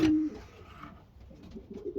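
A large pigeon gives a short, low coo at the start, followed by softer, fainter cooing murmurs in a quiet setting.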